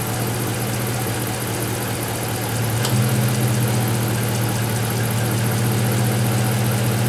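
A 2010-2019 Dodge Ram 5.7L V8 idles steadily on first start after water pump replacement and vacuum bleeding, a constant low rumble with a slight rise in level midway, close by and without talk.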